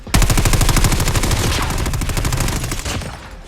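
A submachine gun in a shooter video game fires one long, rapid, unbroken burst at close range, loud and steady before trailing off at the end.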